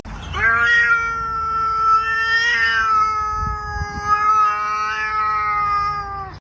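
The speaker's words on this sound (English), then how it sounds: "Cat meowing?" A cat gives a long, drawn-out meow, loud and close, with a wavering caterwaul-like pitch that rises again midway and fades at the end.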